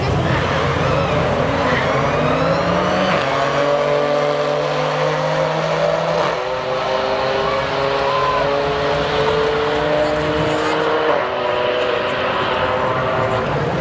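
Audi B8 S4 with dual pulley on E40 and Audi RS3 Stage 1+ on E85 in a quarter-mile drag race, with engines roaring loud and continuous, rising through gear changes for the full run.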